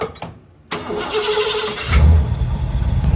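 Hot rod engine cranking then catching: a brief starter whir, a short silent gap, then the engine bursts into life and settles into a loud, rumbling close idle.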